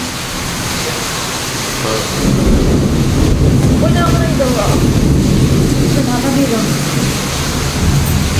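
Strong storm wind roars steadily across the microphone, a dense rushing noise that swells and persists, with faint voices underneath.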